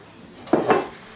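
Bowls and dishes clinking in a kitchen as a few bowls taken from the fridge are washed, two quick ceramic knocks close together against a quiet background.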